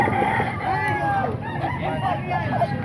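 A rooster crows amid the bustle of a Baliwag, Bulacan flea market where chickens are traded, with vendors' chatter and crowd murmur continuing throughout.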